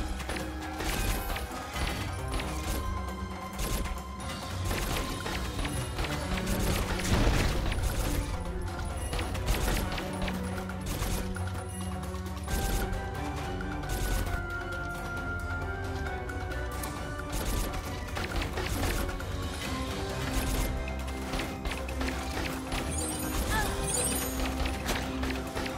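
Turrets in Aegis Defenders fire in rapid, dense volleys mixed with impacts and crashes, a constant busy barrage under game music, with a voice talking at times.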